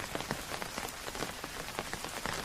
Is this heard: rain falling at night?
yes